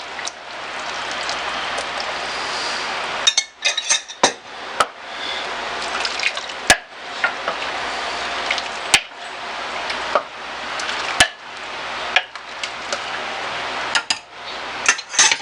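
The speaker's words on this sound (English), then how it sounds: "Now we got it rich smooth, we can put it back in here and mix it all together" Thickened low-carb sauce being stirred back into a beef bourguignon stew, wet sloshing and squelching in the pot broken by sharp spoon taps against the rim.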